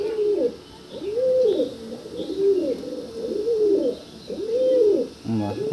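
A pigeon coos close by in a steady series of about half a dozen rolling, swelling coos, each rising and falling, with brief gaps between them and no talking.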